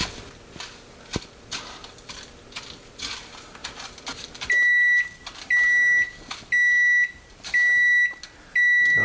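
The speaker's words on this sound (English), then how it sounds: "The oven is now preheated." Oven timer beeping to signal preheating done while chicken cordon bleu is prepared: a row of loud, evenly spaced electronic beeps following some quieter kitchen handling noise.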